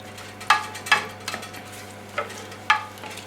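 Rice being stirred in a pan with liquid for a roasted rabbit dish, giving a few sharp scraping clinks of a utensil against the pan over a faint steady sizzle, with no talking.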